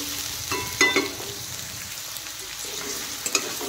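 Potatoes and onions fry in a pan with a soft, low sizzle, broken by a few light clinks and scrapes of stirring.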